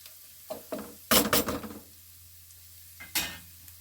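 Cauliflower cooking in a pan is stirred in a few short scraping bursts, with a louder cluster of clattering strokes in the middle, over a faint background sizzle.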